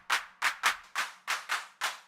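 Seven electronic techno claps, each layered with a burst of white noise that follows the clap's envelope, fire in a steady, slightly uneven rhythm, crisp and close with short noisy tails and no voices.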